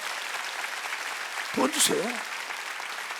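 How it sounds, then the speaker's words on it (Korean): A church congregation claps throughout a few seconds, a steady wash of applause beneath a pastor's voice speaking briefly in the middle. "왜 박수 안 치죠?"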